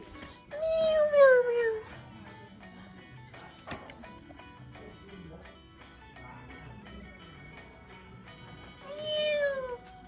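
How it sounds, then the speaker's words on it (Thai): A cat meows several times in a rural village home in northeast Thailand, with two clear, drawn-out calls near the start and another near the end, over faint background activity. "มีแมวด้วยนะคะเพื่อนๆน่ารักเลย"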